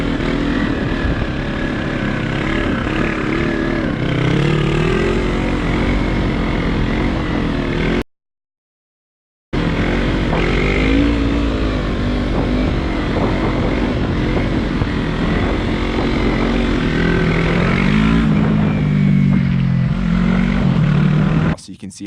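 A Yamaha R3 motorcycle engine drones steadily as the rider holds a wheelie on the road, the pitch rising and falling with throttle, broken by one short gap of silence partway through.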